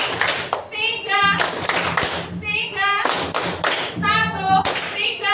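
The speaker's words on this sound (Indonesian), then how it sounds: "tepuk tangan untuk kita semua" Schoolchildren in a classroom clap together in a rhythmic pattern, loud bursts of synchronized claps alternating with brief pauses, mixed with children's voices chanting along.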